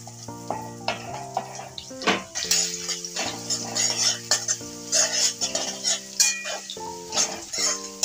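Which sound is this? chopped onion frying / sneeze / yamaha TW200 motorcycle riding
chopped onion frying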